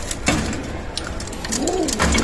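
Pigeons coo in a loft, with two low rolling coos close by over a continuous background hum.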